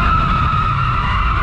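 An automatic Chevrolet Camaro drifts, its tyres giving a loud, sustained screech that lasts the whole short moment, close and without talk.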